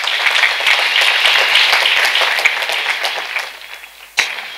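An audience at a praise and thanksgiving festival claps steadily in loud, dense applause, which thins out near the end before a final burst of clapping.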